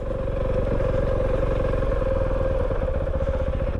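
KOVE 450R motocross-style motorcycle engine on a trail ride, a loud close steady drone with a fast pulsing beat and a strong low hum, running continuously without a break.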